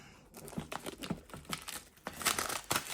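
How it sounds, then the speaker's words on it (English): Plastic shrink wrap being cut and peeled off a DJI Mic mini box, a run of close crinkling and tearing crackles in short irregular bursts, with no talking. "So we're going to just try to cut the plastic here,"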